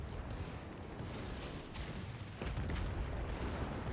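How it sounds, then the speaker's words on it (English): Torpedoes striking the battleship Colorado in World of Warships: a dense, continuous roar of booming explosions and rumbling impacts, loud and sustained, swelling slightly stronger toward the end. "He is in a bad spot and he is eating a lot of torpedoes."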